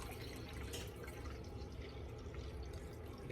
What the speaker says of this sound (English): So I'm going to pour the rest of this in here.